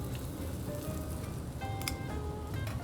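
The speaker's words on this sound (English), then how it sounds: "You want to hear a sizzle when this hits the pan, like so." Steak searing in a hot cast iron pan, a dense, steady crackling sizzle that runs throughout, with a few brief metallic clinks near the middle.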